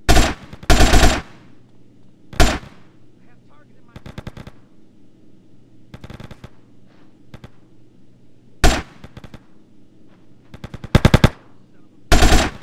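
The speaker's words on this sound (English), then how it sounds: "Get some suppressing fire in there!" Machine gun bursts in the Grand Theft Auto video game, loud rapid volleys in short clusters separated by quieter pauses with distant gunfire in between.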